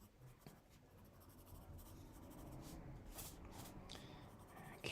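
Colored pencil rubbing and scratching across a sheet of vellum, a steady close-up scritching texture that continues throughout with a slightly louder stroke at the end.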